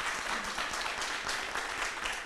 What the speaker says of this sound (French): Elle vient nous rejoindre pendant que vous applaudissez.